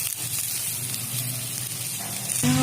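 Chopped cabbage frying in a pan for spring roll filling gives a steady soft sizzle, moderately close, with a brief clatter or tone near the end.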